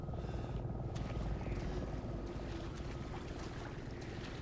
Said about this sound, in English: There's a helicopter looking for us.